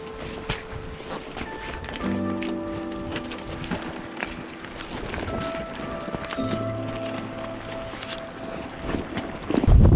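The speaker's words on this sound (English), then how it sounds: "it's definitely still rainy and windy here" Gusty wind buffets the microphone over splashing lake water and rain patter during winter trout fishing, steady throughout and louder near the end.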